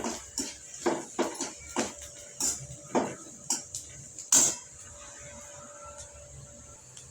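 Soybean fry ingredients with washed coriander being mixed in a metal pan, giving a series of sharp spoon-on-pan clinks and scrapes in an irregular rhythm, close and moderately loud, with no talking.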